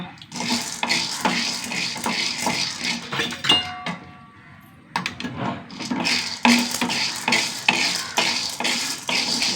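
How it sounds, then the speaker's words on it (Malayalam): A spoon stirs and scrapes dry pigeon peas around a pan as they dry-roast, in steady rhythmic strokes, with rattling and a brief pause partway through. "നമുക്ക് തുവരയ്ക്കൊന്ന് വറുത്തെടുക്കാം കേട്ടോ"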